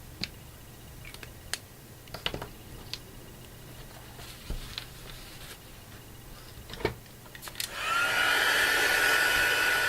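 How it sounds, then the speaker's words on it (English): A heat tool is switched on near the end to dry mixed media paint, its loud steady blowing roar following a stretch of light clicks and taps of work on the piece. "I'm taking the heat tool again and trying to dry it off."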